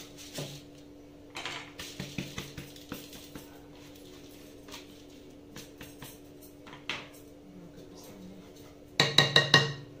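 Rice goes into a clay cooking pot (bram) for Egyptian baked rice, with scattered clinks and taps of kitchenware, then a loud cluster of rattling pours near the end.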